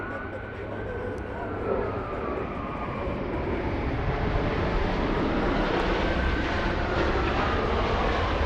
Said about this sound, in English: Bringing that Dreamliner to the north side of LAX